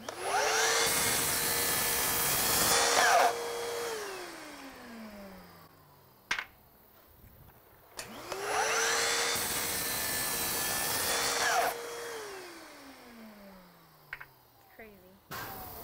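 A power saw cuts wood with a vacuum dust extractor attached. Two separate passes each bring a loud rasping roar over a steady motor hum that winds down afterward, with brief clicks and knocks in the quieter gaps.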